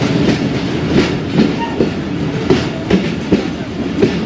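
Khyber Mail passenger train rolling along rails in cold, foggy Punjab, with a steady rumble and a recurring clickety-clack of wheels over rail joints, close and loud throughout.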